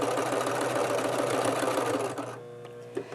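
A sewing machine stitches steadily over pins on a fabric basket liner, a loud close mechanical whir for about two seconds before it slows and stops, leaving a faint click.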